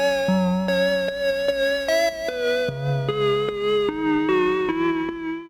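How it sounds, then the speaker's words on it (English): A synth arpeggio from Omnisphere's random arpeggiator steps through bright, echoing notes in a steady run with shifting pitches, played alone and clearly. "I have an ARP that's coming from Omnisphere."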